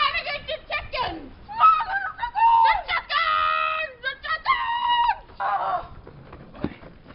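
Farm fowl, including chickens and ducks, honk, squawk and cluck in a lively, uneven chorus at close range, with short bursts and brief pauses and no speech.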